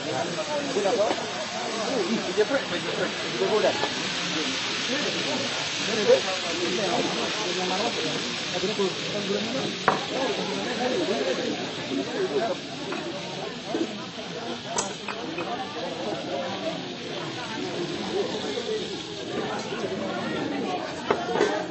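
Cassava frying in hot oil at a men's cooking contest gives a continuous, steady sizzling hiss throughout, with people chatting and talking over it.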